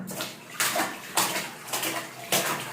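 Cold water splashes and sloshes during a bath, in four or five loud bursts that rise and fall over a wet, continuous wash of water.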